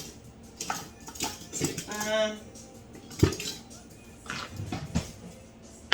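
Knife cutting through skin-on baby potatoes on a board, giving a few close, sharp thuds and scrapes spaced a second or so apart over quiet room noise, with a brief tonal murmur in between.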